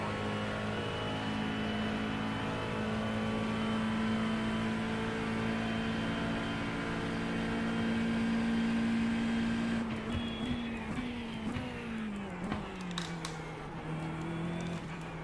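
Race car on a hot lap at Monza in a racing game, its engine holding a steady droning note before pitch shifts and dips through braking and gear changes, heard alone without talk.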